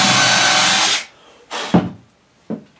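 A power drill backing a screw out of wood while building a child's tool bench: one sustained whirring run of about a second, then two short, sharp bursts, close and loud with no talk.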